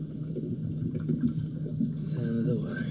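Water lapping and swishing against the hull of a small electric boat on an evening river cruise, a steady low wash with faint motor hum and some wind noise throughout.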